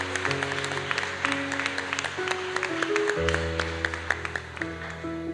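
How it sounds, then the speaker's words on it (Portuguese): A church congregation clapping over sustained organ or keyboard chords during a Sunday worship service, with scattered claps punctuating the steady music. "Você pode aplaudir e glorificar a Ele."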